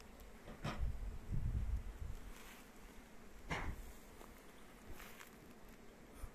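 Honey bees buzzing around freshly delivered nucleus hives at an outdoor apiary base, a steady faint drone with a few louder passes and soft rustling, no talking.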